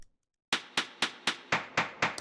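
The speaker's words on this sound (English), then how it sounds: "This is really a hi-hat sound." A hi-hat sample for a house track starts after a brief silence and repeats in an even run of seven sharp, bright hits, each with a short decaying tail, alone and up front.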